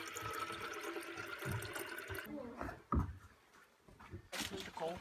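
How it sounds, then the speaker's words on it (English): Tap water runs over hands being washed with Mrs. Myers soap at a Big South Fork campsite, a steady close splashing that cuts off partway and returns, with people talking over it. "Use that Mrs. Myers soap to wash my hands so they smell good."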